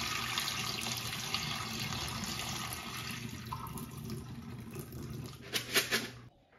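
Rice is rinsed under running tap water, a steady splashing rush of water from a faucet that becomes more irregular and gurgly toward the end before stopping.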